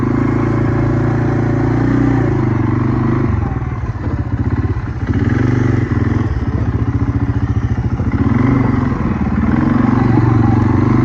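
An off-road vehicle rides across a newly built DIY bridge, its engine droning loud and steady with rumbling clatter and thuds from the crossing, the revs dipping briefly partway through before picking back up.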